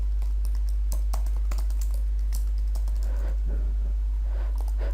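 Keys clatter on a computer keyboard as someone types a short email message, a quick irregular run of close, crisp clicks over a low steady hum.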